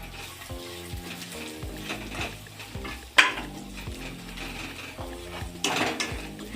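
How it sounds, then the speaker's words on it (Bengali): A mashed fish egg mixture sizzles in a pan, a steady close crackle broken by repeated scrapes and stirring knocks of a utensil, with a couple of sharper clanks, no speech. "ভাজা হোক আর একটু।"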